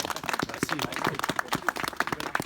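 A crowd at the inauguration of a community book box claps for its architect, a brisk, close round of handclaps with a voice briefly speaking over it.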